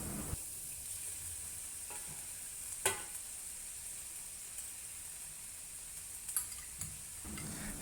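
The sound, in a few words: stir frying broccoli and noodles in a wok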